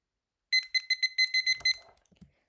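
Electronic quiz timer being set, a quick run of about eight bright, close beeps in an uneven rhythm, followed by a few soft clicks and taps, with no talk.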